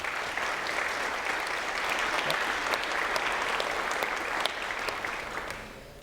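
A seated audience at a city community event gives students a sustained round of applause, dense steady clapping that fills the room for several seconds before tapering off, with no voices over it.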